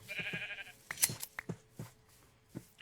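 Sheep in the Minecraft video game bleat in short, sparse calls mixed with soft game clicks and effects, fairly quiet and unaccompanied by talk.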